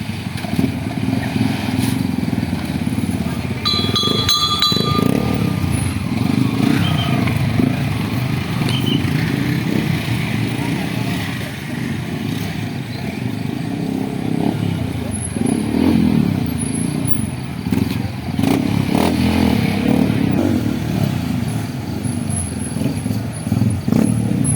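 A motorcycle engine is revved during an open-air stage performance. It sets up a continuous rough, loud rumble with clattering bursts throughout, while voices and crowd noise mix in.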